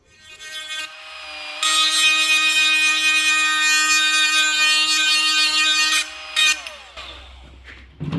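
A power tool cuts into a plastic truck dash panel, its loud, steady whine running about four seconds, then a short burst and a trailing rattle as the blade stops.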